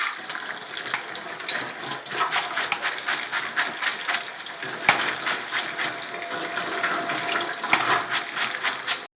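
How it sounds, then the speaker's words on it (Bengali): Cold tap water runs steadily over boiled veg chowmein noodles being rinsed in a Bengali home kitchen, a continuous close splashing stream with no talk. "কলের জলে চাউমিনটা ধুয়ে নেওয়ার পর জল ঝরিয়ে নিয়ে"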